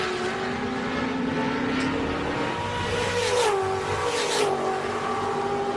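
Race cars thunder around the Daytona banking on the final lap of a night race, a dense, loud engine roar with pitch rising and falling as cars pass close together, no commentary heard.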